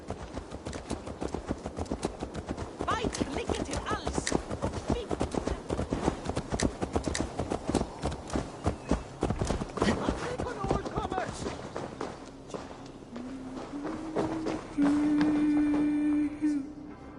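Horse hooves clip-clop at a steady trot in the Assassin's Creed Valhalla video game, layered with game music and ambient noise, while characters speak over them; a tone enters near the end.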